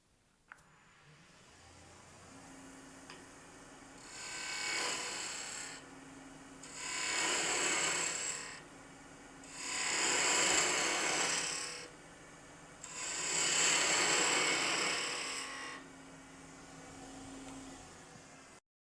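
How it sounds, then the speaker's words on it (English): A wood-turning gouge cuts tapered end grain on a spindle in four separate passes, each a loud, rasping scrape of a few seconds, with a low lathe hum between them. "remembering that I'm cutting end grain at an angle. So let's go ahead with the cut."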